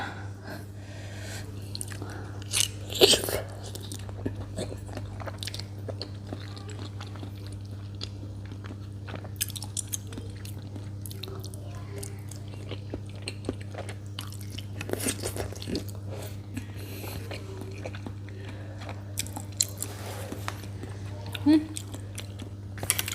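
Close, wet chewing and crunching of spicy salmon papaya salad with fermented fish, eaten by hand late at night, with soft irregular bites and mouth sounds over a steady low hum.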